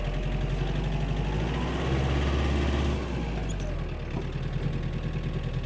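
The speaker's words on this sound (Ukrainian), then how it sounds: "Включаємо повишені передачі і перша швидкість." Mitsubishi MT-265 Japanese mini tractor engine running steadily in a higher gear with the tiller raised, a loud continuous low-pitched drone that rises slightly in the middle then settles, with no talk.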